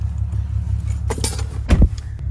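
A ring of keys jangles briefly and close by in two quick bursts, heard over the low steady rumble of an idling heavy-duty 2500 pickup set up for towing.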